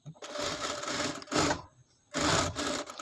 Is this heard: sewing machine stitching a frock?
yes